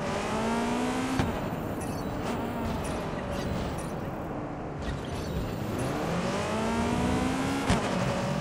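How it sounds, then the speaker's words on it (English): A car driven through city streets in Watch Dogs 2, its engine droning steadily with rising and falling revs as it shifts, a continuous close game vehicle sound with no talk. "Let's drive around this zone."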